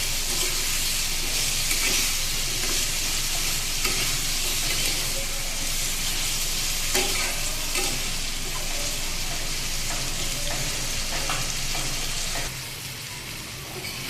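Pumpkin seasoned with salt and turmeric fries in a pan, a loud dense sizzle that holds steady with crackles and stirring scrapes, then drops quieter near the end.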